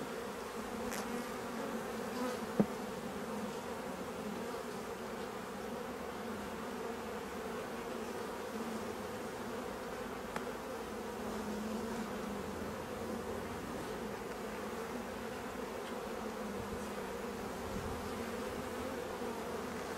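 Honeybees buzzing steadily and close during an inspection of small nucleus hives, a dense continuous hum with no talk over it.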